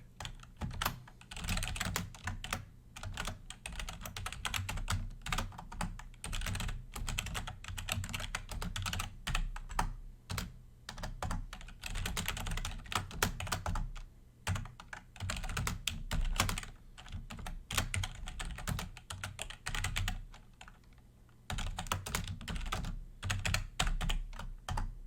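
Continuous rapid typing on a computer keyboard while writing hello world code, close and steady, with brief pauses between bursts of keystrokes and no talking.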